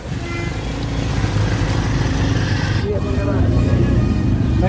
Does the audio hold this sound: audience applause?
no